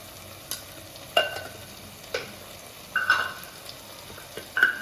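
Tomatoes sautéing in a pan with turmeric, chili powder and garam masala for a hotel-style plain salna: a low, steady sizzle broken by several sharp spoon scrapes and clicks spaced about a second apart.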